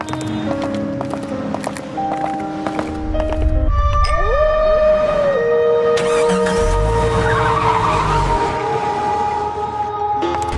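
A car pulls away with a rising engine note and a drawn-out tire skid, loud and close, over a busy layer of music and background noise.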